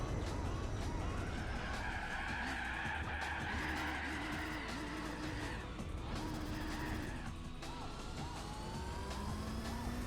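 A car in Gran Turismo 4 snaps into oversteer, its tires squealing in long wavering howls over a steady engine drone and racing noise, sustained throughout the stretch.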